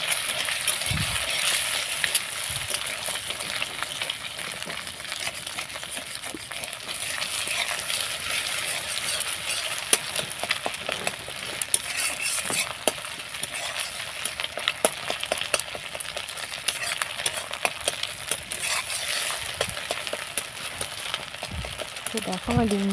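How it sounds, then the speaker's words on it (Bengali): A lightly salted egg fries in a pan and is stirred into crumbly scrambled bits, making a steady close sizzle broken by faint scrapes and taps of stirring. "দিয়ে ডিমটা এবার ঝুড়ো ঝুড়ো করে ভেজে নেব।"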